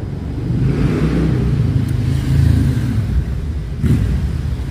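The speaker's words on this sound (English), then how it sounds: "Big beautiful motorcycle." A big motorcycle rumbles past, a steady loud engine drone that swells slightly mid-pass, with no talk over it.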